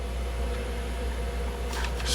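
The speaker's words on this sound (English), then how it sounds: "that's the furnace in the next room running" Furnace running in the next room during a cold snowstorm in New England: a steady low hum with a constant mechanical drone, muffled and even throughout, with a faint rustle near the end.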